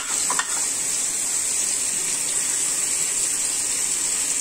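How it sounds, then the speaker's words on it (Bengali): Fish frying in a pan over a high gas flame, a constant bright sizzle with a brief clatter near the start, steady and close throughout. "সেখানে ভেজে নিই, তারপরে লো ফ্লেমে ভেজে নিই"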